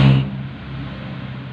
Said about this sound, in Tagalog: Ang ingay na sasakyan.